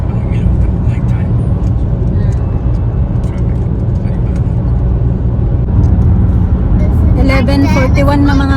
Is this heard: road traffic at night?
yes